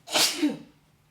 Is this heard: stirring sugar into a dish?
no